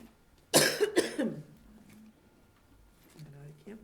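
Person coughing during a zoning board of appeals meeting, two sharp close coughs in quick succession followed by quieter throat sounds and a brief voiced murmur.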